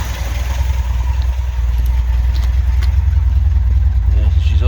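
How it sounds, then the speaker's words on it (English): A 1978 MGB Roadster engine idles low and steady up close, with a deep, even rumble that persists throughout while faint clicks and handling noises come from around the car. "Yeah, so she's idling fairly low."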